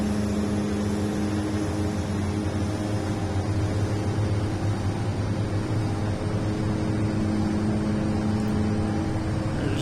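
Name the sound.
DHC-6 Twin Otter engines on takeoff run, Flight Simulator X video game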